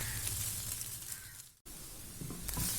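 Idli pieces stir-fried in a pan, giving a steady close sizzle and hiss with a brief break in the middle before the frying noise resumes.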